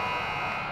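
A loud, steady electronic buzzer marks the end of a period at a high school varsity hockey game between GBS Titans and New Trier, heard alone as one short continuous blast.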